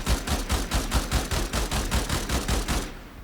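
The Burston Prime rifle fires in the video game Warframe as a rapid, steady stream of evenly spaced sharp shots, loud and close, that runs for about three seconds and then stops abruptly.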